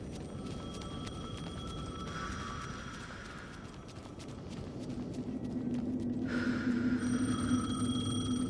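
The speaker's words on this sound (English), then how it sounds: "Phone again." A telephone rings in repeated bursts against a steady background hum, growing somewhat louder toward the end, with no voices.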